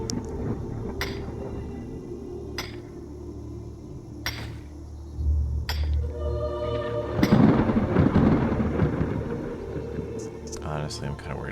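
A thunderstorm in the video game The Elder Scrolls V: Skyrim Special Edition, with sharp lightning cracks recurring every second or two and a heavier rumbling burst later, under steady rain and game background sound.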